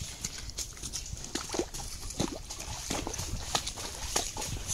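A horse walking through a big puddle, hooves splashing in a steady plodding rhythm, close by with sloshing water between steps.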